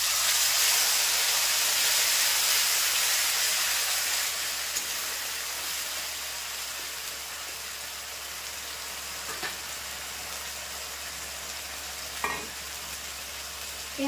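Onion paste sizzles and fries in a pan, a loud, steady hiss that eases somewhat over time, broken by a few faint clinks of stirring, with no voices.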